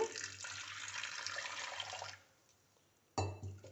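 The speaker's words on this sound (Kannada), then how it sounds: "ಇದನ್ನು ಕುಕ್ಕರಿಗೆ ಹಾಕ್ಕೊಳ್ಳೋಣ ಹಾಗೆ ಮುಳುಗೋಷ್ಟು ನೀರು ಹಾಕ್ಕೊಳ್ತೇನೆ" Water pours into a pressure cooker over soaked dried peas, a close continuous gush for about two seconds, a short pause, then a second burst of pouring.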